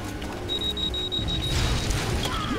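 Bomb blasts in the LEGO Batman video game: a steady beeping countdown tone runs through the first second and a half, then broad rumbling booms and crackling debris take over, loud and continuous, with no talking.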